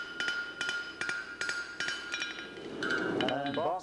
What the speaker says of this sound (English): pull the hammer down towards the hole